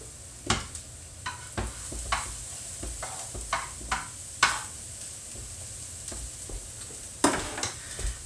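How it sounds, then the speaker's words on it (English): Egg-soaked chocolate peanut butter French toast fries in a pan with a soft, low sizzle, broken by a scattering of sharp scrapes and clicks from a utensil turning and nudging the slices; no talking. "I'm just cooking up that egg on the other side."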